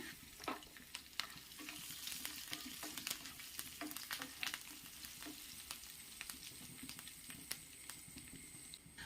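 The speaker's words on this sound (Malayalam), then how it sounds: "അപ്പോൾ ഉള്ളി ഒന്ന് മൂത്ത് വരാറാകുമ്പോൾ നമുക്ക് തേങ്ങ ചേർത്ത് കൊടുക്കാം" Shallots and a few spoons of grated coconut roasting in oil in a pan for jackfruit erissery, a steady close crackling sizzle with sharp pops and stirring scrapes throughout.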